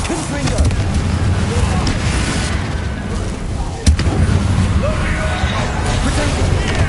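Confringo fire spell blasts in Hogwarts Legacy, booming bursts and crackling fiery noise over dense game action, with a sharp new impact midway and a voice shouting through the chaos.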